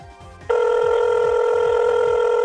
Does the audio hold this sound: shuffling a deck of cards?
no